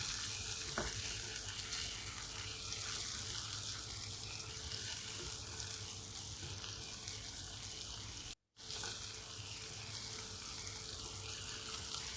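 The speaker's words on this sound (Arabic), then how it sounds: "بعد البصلة بنحط الفلفل الملون، وكله بس تشويحة لفة كده." Sausage stir-frying with onion and colored peppers in a pan, a steady broadband sizzle that runs nearly unbroken at close range, with a brief dropout shortly after the midpoint.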